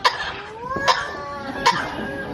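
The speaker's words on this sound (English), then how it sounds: "A few good coughs, a bit of a treat." A bird at a zoo in Ontario, Canada gives three short, sharp coughs in quick succession, close and distinct, with a faint tonal whistle sounding between them.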